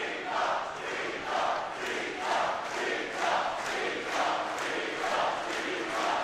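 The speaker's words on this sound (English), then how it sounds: "Thank you for chanting." Crowd chanting in rhythmic surges at a Rubik's cube European championship, a steady roar of many voices rising and falling about once a second, loud and continuous throughout.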